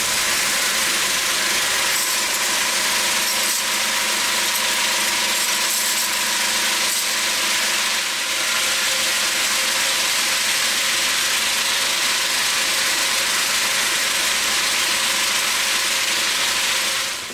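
A rotating tumbling drum deburrs metal logo blanks in white spirit, giving a steady loud clattering churn of small metal parts over a mechanical hum, unbroken throughout.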